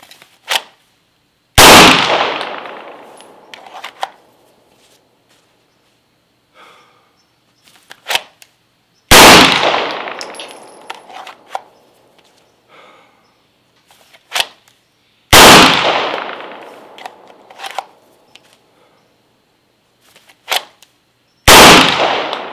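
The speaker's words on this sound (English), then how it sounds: "I'm just going to take 5 shots, shooting one at a time, drawing and firing into hopefully the 9 zone on the target downrange" Glock 19 pistol fired one shot at a time at an outdoor range target, drawing between shots: sharp, loud single reports spaced several seconds apart, each followed by a quick fade, with faint clicks and handling noises in between.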